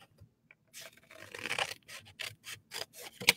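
Scissors snip through a paper sticker sheet with a run of quick rasping cuts, close and crisp after a brief quiet start.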